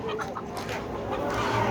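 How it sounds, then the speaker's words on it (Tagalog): Small speckled bulik chickens raised for slaughter on a poultry farm in Saudi Arabia cluck steadily, nearby and fairly loud, with several overlapping calls and no speech. "Ang ganda ng mga manok niya oh."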